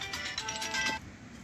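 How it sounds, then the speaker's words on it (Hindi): A mobile phone rings for about a second in the morning at a shepherds' camp along the Manali–Leh highway, a short bright electronic tune that then cuts off into quiet outdoor background. "और छोटू भाई की गर्लफ्रेंड का फोन आ गया सुबह सुबह।"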